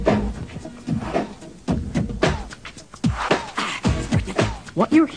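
Someone beatboxing a drum machine rhythm with his voice, a human mimicking electronic drums: punchy, close vocal kicks and snare-like bursts in a steady groove, with breathy clicks and hums between hits.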